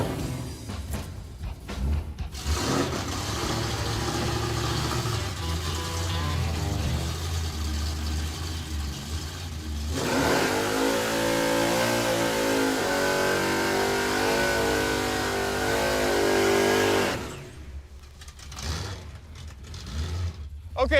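The Crusher Impala launches hard down a drag strip, its engine roaring loudly and rising as the car pulls away, then fading into the distance while talk carries on around it.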